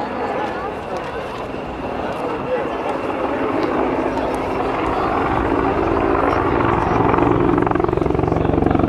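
A CH-146 Griffon helicopter at an airshow demonstration flies straight away after a vertical climb, its loud, steady rotor and turbine roar continuous and gradually building, with a commentator talking over it.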